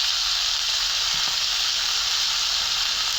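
Potatoes and green chili fry in a pan with a steady, close sizzle that holds evenly throughout, with no talking.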